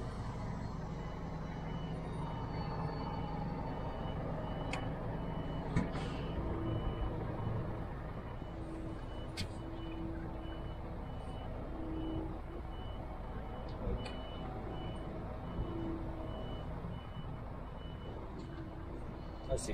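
A truck edges through a tight space at night in Rotterdam, its reversing alarm beeping steadily over a constant engine rumble, with a few faint clanks along the way.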